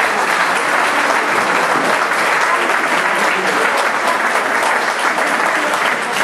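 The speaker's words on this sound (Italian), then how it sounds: "un applauso forte per Angela." Loud, dense applause from the audience at a Festa della Donna evening concert in Roccamonfina's Palazzo dei Congressi, honoring Angela, sustained and even with no pauses.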